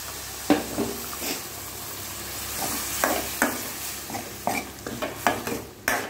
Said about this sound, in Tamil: லைட்டான ஃப்ளேமில் வச்சுட்டு வதக்கிட்டு இப்போ இந்த சிக்கன் எடுத்து இதில் கொட்டிடலாம்